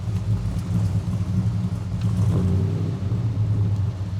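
A 1966 Ford F100 pickup with a built 390 V8 and a comp cam idles with a steady, loud low rumble throughout.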